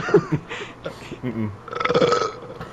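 A loud, drawn-out burp, preceded by short vocal noises and ending in a rattling, croaky stretch, heard close up with no talk over it.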